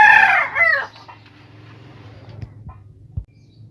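Chickens in a small backyard coop: a rooster crows loudly near the start, followed by scattered soft clucks and clicks against a low steady hum.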